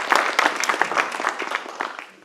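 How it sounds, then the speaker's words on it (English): Applause for a high school student at a school board meeting, a smattering of scattered claps from a modest crowd that thins and fades out toward the end. "We'll give him a round of"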